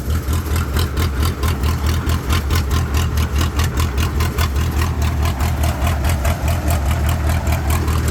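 Engine of a homemade straw baler vehicle running, a loud, steady low-pitched rumble with an even pulsing throb and no talk over it.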